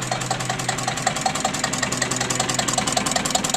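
A Listeroid diesel engine coupled to an axial flux alternator runs steadily, its rapid, even thumping beat close and loud with a mechanical clatter over a low hum.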